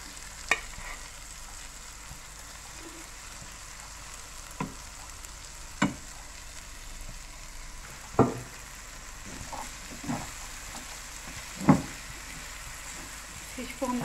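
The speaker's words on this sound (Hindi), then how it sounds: "फिश को हमने इसके साथ अच्छी तरह से मिक्स करना है, उसको भूनना है" Fish katakat is mixed and fried with masala in a pan under a low, faint sizzle, with sporadic sharp clinks and scrapes of a stirring utensil.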